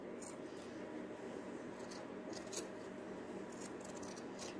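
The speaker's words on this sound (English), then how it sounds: "Cut right along the seam." Scissors snip quietly through fabric along a seam while a thrifted sheet or curtain is taken apart for a nightgown, soft repeated cuts under a broad background hiss.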